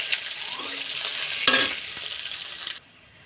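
Chopped onion hits hot oil with dried chillies and five-spice seeds in a pan, sizzling loudly with a burst of frying and stirring midway before the sound cuts off abruptly.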